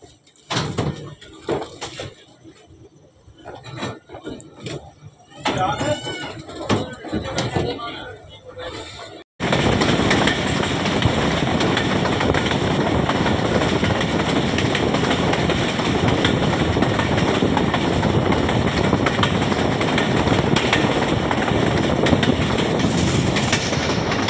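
Jaffar Express passenger train pulls away again after an unscheduled halt just past Sanjani: voices first, then a sudden, loud, steady rumble of rolling wagons with faint clickety-clack that fills the rest close by.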